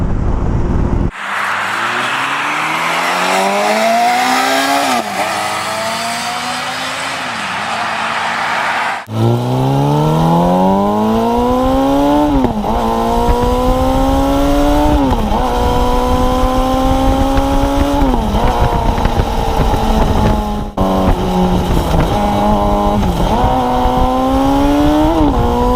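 A 600cc sport bike, a Honda CBR600RR or Yamaha R6, rides on a road with a loud, close, high-revving engine that climbs through gears, dipping at each shift before winding up again, with steady wind rush underneath.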